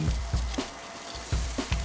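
Rack of lamb sizzles and crackles steadily on a hot grill, with a few sharper pops and thumps as the meat is flipped, close and moderately loud with no talking.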